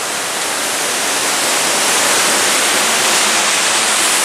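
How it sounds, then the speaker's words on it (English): A waterfall roars below a hiking trail as a steady, loud, broadband rush of falling water, continuous and unchanging with no voices. "And we're right above the waterfall"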